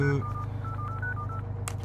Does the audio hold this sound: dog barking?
no